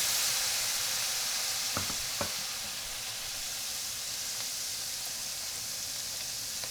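Chinese seasoning wine hits a very hot pan of browned pork belly, a loud steady sizzling hiss with a couple of faint clicks of utensils, close up and without voices.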